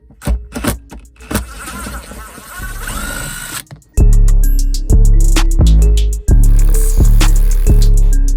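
Abrasive sanding on bare metal while a ground point is cleaned up for a Walmart subwoofer build, a rough rasping that runs for about four seconds before a series of loud, heavy thumps take over.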